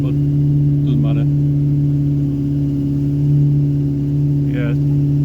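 A rebuilt Austin A-series car engine revs high and holds a steady, loud humming drone, with a person speaking briefly over it twice.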